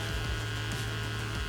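A 1993 Flowbee vacuum haircutting system hums with a steady, even, bee-like electric buzz. It is fairly quiet and continuous, with no voices.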